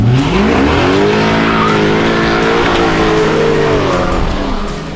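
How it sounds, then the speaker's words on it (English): A Stage Two Volkswagen Golf R with a DSG gearbox does a burnout in snow, its engine revving hard and loud with a rising, wavering whine as the wheels spin, close and continuous throughout. "Did a burnout."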